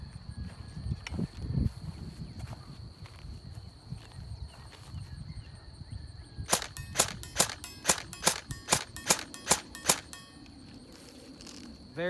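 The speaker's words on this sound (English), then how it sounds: "Very, very straight shooting with this upgraded spring." E&L AKS74N airsoft rifle with an upgraded M130 spring, firing about ten sharp, evenly spaced semi-auto shots over a light outdoor background, with a few louder knocks and handling noises before the string begins.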